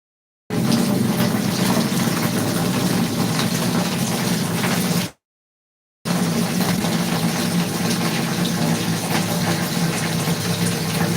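Water fills a tub for rinsing laundry with a strong, steady gushing rush. It stops briefly about halfway through, then resumes at the same level, and no one talks.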